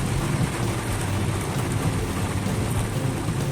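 Steady rain pours down onto a flooded street amid traffic, a dense, constant hiss and patter with no pauses, fairly close and loud throughout.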